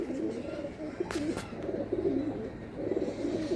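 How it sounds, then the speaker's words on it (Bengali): A pair of Kalsira pigeons coo softly and repeatedly close by in a steady, rolling rhythm, with a couple of brief sharp noises partway through. "এই এক পেয়ার কালসিরা পায়রা আমাদের শখ করাচ্ছে"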